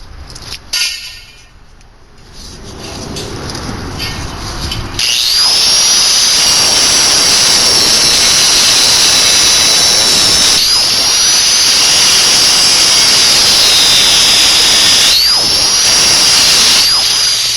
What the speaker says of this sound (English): Grind that off now.